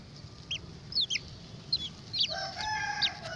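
Chickens cluck while pecking at live insects, giving short bright clucks and squawks in scattered bursts close by over a soft background rustle, with no talking.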